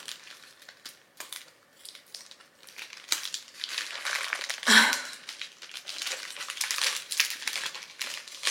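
Crinkly plastic wrapping on a book rustles and crackles in bursts as it is unwrapped, with one sharper crunch partway through, close to the microphone.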